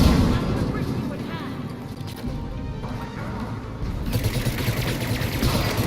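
Dense, rapid gunfire from a Mass Effect 3 squad firefight, a steady crackling barrage with brief bursts that swell toward the end, sounding close and busy with combat noise throughout.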